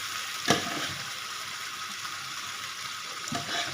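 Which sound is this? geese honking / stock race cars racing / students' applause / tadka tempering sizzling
tadka tempering sizzling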